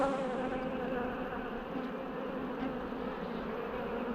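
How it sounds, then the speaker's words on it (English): A dense swarm of honey bees hums steadily and fairly loudly at close range as they are shaken down into a hive box during a Taranov split. "We just shake them bees down."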